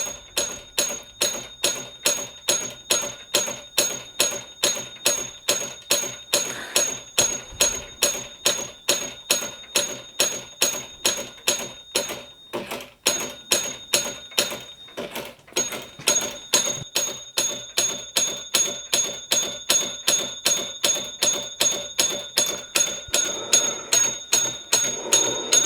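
A contact breaker solenoid engine running with a loose, wobbly crankshaft, giving a fast, even series of sharp mechanical clicks that repeats steadily for the whole stretch, close and clear with no voices.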